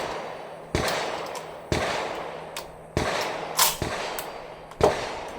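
An M1 Garand rifle loaded with slow-burning powder fires six loud, sharp shots at uneven intervals of about a second, each crack followed by a short ringing decay.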